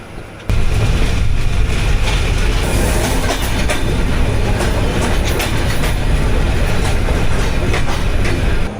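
The Padma Express passenger train rolls through the night in Bangladesh, a loud, continuous rumble of wheels on rails with steady clatter and occasional higher metallic screeches, heard close from on board.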